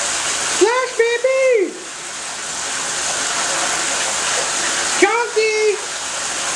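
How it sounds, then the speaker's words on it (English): Water sloshes and splashes steadily as baby Chonky plays in a bathtub, a continuous wet wash, with two short bursts of an enthusiastic voice over it. "Splash, baby!"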